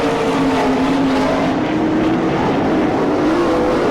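Race cars circle a track in an All Stars versus NCRA Eastern Shootout race at Franklin, Pennsylvania, their engines a constant loud droning roar with shifting pitch as they pass, steady throughout with no talk.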